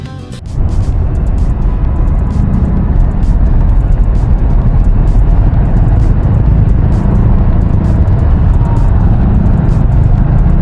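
Dense road traffic on EDSA southbound in Manila near the Skyway posts, a steady loud rumble of car and vehicle engines filling the whole stretch after a brief quieter start, with no talking.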